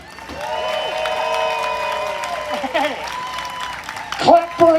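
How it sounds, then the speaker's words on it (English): A live audience at a pun competition claps and cheers for a contestant, a steady wash of applause with shouts and whoops rising over it near the end. "Okay, clap for Toby."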